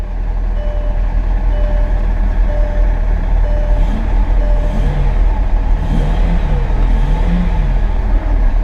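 A Mercedes S600 with a V12 engine idles steadily after starting, a loud, constant low rumble with faint shifting tones over it and no talk.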